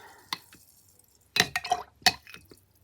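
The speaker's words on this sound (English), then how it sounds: "If you hear me dipping in both of them, I do, because one is the dirty water and one is clean water." A paintbrush dips and swishes in a cup of watercolor rinse water, giving a few close, brief splashy drips and sloshes with quiet pauses between.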